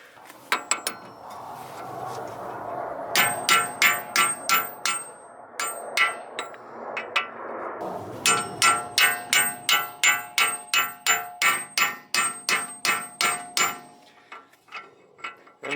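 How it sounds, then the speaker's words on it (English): A new wheel bearing is hammered into a BMW E46 front hub through a 36mm socket, giving a long series of sharp, ringing metallic strikes in steady rhythm, loud and close, with a short pause partway through. "you're going to use a 36mm socket that perfectly rides this bearing here"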